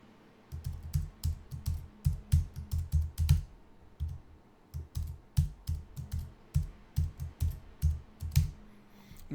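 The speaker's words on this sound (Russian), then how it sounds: "Вводим пароль" Keys clatter on a computer keyboard as a password is typed, short bursts of close, crisp clicks with a brief pause in the middle and no speech.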